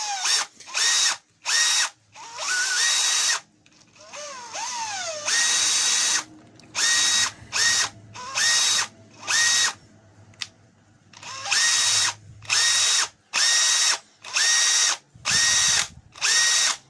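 A cordless drill with a repaired trigger switch and a slightly wobbly chuck, run in repeated short bursts with a whining motor that starts and stops about a dozen times, the pitch sliding on some spin-ups and spin-downs, close and clear.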